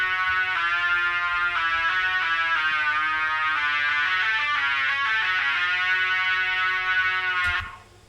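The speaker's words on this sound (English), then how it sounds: "There's this Colossus guitar, which you've heard in a lot of my recent songs." A Colossus virtual guitar run through a wah-wah plugin plays a sustained, bright synthetic lead with shifting tone and short pitch bends, loud and steady alone for about seven seconds before cutting off.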